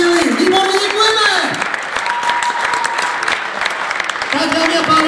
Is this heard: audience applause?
yes